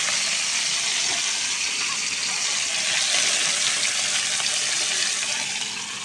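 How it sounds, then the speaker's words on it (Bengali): Fish sizzling and frying in oil on a clay stove, cooked outdoors at night in a village, heard as a steady loud hiss with no break throughout. "রাত্রে মাছ ভাজি করতেছি মাটির চুলায়"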